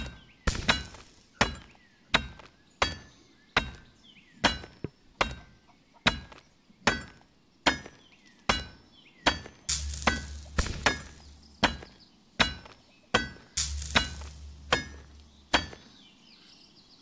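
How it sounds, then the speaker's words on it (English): Red iron sword blade being hammered in A Township Tale: sharp metallic strikes ring out one after another in a steady rhythm, about one per second, loud and close, with a few heavier, duller blows mixed in near the end. "it's just hammer all over the blade"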